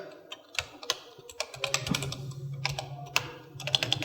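Fingers type on a computer keyboard while a word is entered in MS Word, producing irregular bursts of close, crisp key clicks with no talk.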